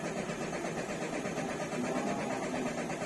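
A Chery QQ 308 manual car with a faulty purge valve runs its engine steadily up close after being started, a continuous mid-pitched drone with no talk over it.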